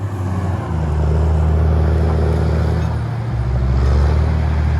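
Diesel engine of a narrow tire log skidder idles and revs in the woods during logging, a steady loud low rumble running throughout with a slight surge partway.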